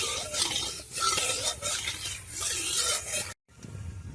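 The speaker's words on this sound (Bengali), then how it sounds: "ফোড়নটা একটু ভাজা করে নেব, নাড়াচাড়া করে।" Black cumin seeds tempering in hot mustard oil in a wok (kadai), stirred with a spatula, making scraping, rasping strokes in steady waves over a soft background sizzle, broken by a brief pause near the end.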